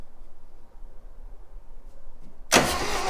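Stuck engine of a 1966 Chevy Bel Air cranked with a jump starter, a sudden loud starter whir bursting in near the end after quiet idle background.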